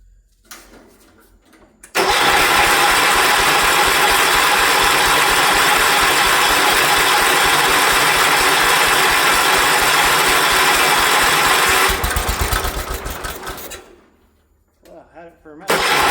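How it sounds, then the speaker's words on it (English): A 1980 John Deere 216 tractor engine cranks for about ten seconds with a loud, steady starter whir and rapid rhythmic pulsing. It then cuts off into near quiet before a brief noise at the end. "let's crank it and see if we get gas coming up through"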